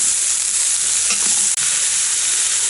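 Food sizzles loudly and steadily in a pan while being stirred now and then, a dense continuous frying hiss with a brief dropout partway; no voices.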